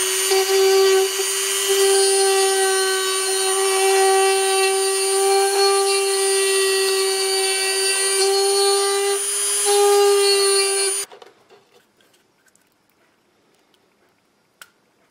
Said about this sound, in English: going to use a Dremel that should cut the hole out nicely